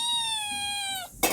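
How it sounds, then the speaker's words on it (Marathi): A cat gives a single drawn-out, tonal meow at close range in a village home, holding steady for about a second before breaking off, followed by a brief noisy thump. "अजून एक आली आहे म्याऊ, बघा कशी करते आहे"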